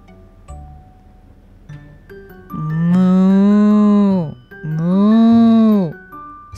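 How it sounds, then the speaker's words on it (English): Two long, loud moos from a cow, a short pause between them, heard close and clear over faint background sound. "Said the cow."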